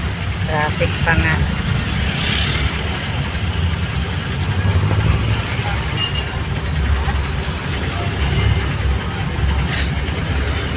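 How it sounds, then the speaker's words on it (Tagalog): Heavy road traffic with jeeps and trucks idling, a dense continuous low engine rumble filling the street, steady and close throughout, with faint passing sounds on top. "Traffic pa nga."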